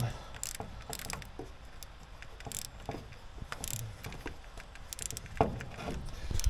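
A ratchet wrench tightens a fitting on a Ford F250 with the 7.3 Powerstroke diesel, giving sparse, irregular clicks and clatter close by at low volume.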